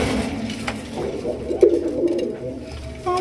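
Pigeons cooing at a pigeon farm in Bangladesh, a steady low burbling coo repeated under faint background rustle, fairly close.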